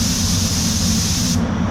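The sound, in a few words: Gunman Edition Pro Light T21.3 spray gun spraying air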